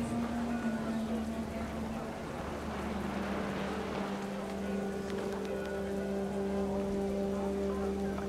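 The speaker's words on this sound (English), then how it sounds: "Rain came down in buckets then" Heavy in-game rain from What Remains of Edith Finch pours steadily throughout, a dense close hiss of drops on surfaces with a low steady hum beneath and no break in the downpour.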